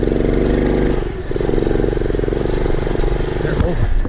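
A CT70 clone minibike on small 10-inch tires rides off-road through deep, soft sand in New Mexico, its engine droning loud and close with a steady, buzzing tone that dips briefly before pulling again.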